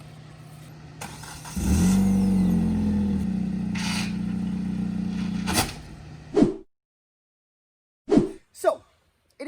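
A car that had sat unused for three years starts and idles steadily, then cuts off, followed by a few short thumps and clunks in the quiet afterward.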